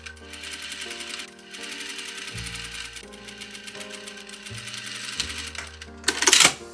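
A sewing machine stitches a trouser waistband onto the front pant piece in short, close, rapid bursts with brief pauses and shifts in speed, ending with a louder rustle of fabric.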